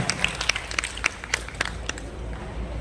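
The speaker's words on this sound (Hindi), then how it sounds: "मैं चाहता हूं एक बार जोरदार तालियों से इनका उत्साह बढ़ाएं, जोश बढ़ाएं।" An audience at an inter-school group dance competition claps for a dance group, a thin scatter of separate claps over a low background murmur, fairly faint.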